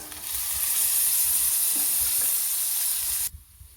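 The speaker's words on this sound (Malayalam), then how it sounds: "കൊച്ചുള്ളിയും തേങ്ങാക്കൊത്തും മൂത്ത് വന്നു" Shallots and coconut pieces frying in ghee, a bright, hissing sizzle that holds steady and loud before cutting off abruptly near the end.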